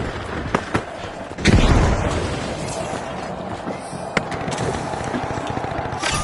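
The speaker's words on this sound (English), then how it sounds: "Frag grenade out." A frag grenade in The Finals goes off with a deep, close boom after a few sharp clicks, followed by lingering rumble and scattered small pops of combat.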